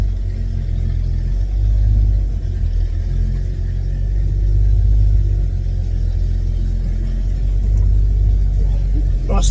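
A Ford XB Fairmont rolls along under its own power for the first time, a low, steady engine rumble heard from inside the car with a voice speaking over it.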